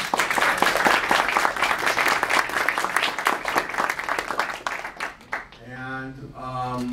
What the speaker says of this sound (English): let's give Alan a round of applause